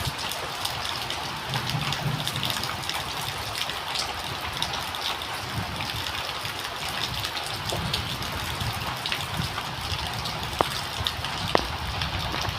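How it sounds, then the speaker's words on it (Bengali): Steady rain falls outdoors on a rural Bengali homestead near guava and mango trees, a dense continuous hiss with a few sharper drips standing out near the end, and no voices. "চলো বৃষ্টি থামলে গাইস, বৃষ্টি থামলে আরেকটা দেখাবো"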